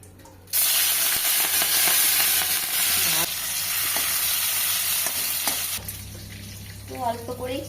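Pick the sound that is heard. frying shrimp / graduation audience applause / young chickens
frying shrimp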